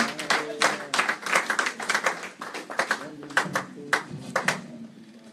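A church congregation claps along in quick, lively rhythm during Sunday worship, hands ringing out close and steady with voices chanting and singing underneath.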